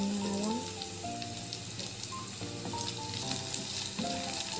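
Star anise dropped into oil in a frying pan for a Banjar-style snakehead fish stew in soy sauce, giving a steady close sizzle with faint tonal background sounds and no talking.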